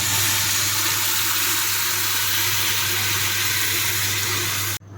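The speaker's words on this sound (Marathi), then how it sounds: "आता आपण घालू कपभर पाणी" A cup of water poured into frying masala paste with tomato for a whole chicken cooked in a pressure cooker, making a loud continuous rushing pour and hiss that cuts off abruptly at the end.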